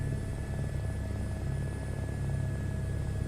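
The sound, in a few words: helicopter rotor spinning up in VR flight simulator game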